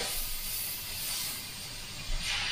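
A Badger airbrush sprays opaque black paint, a continuous close airy hiss that holds steady throughout with no voices.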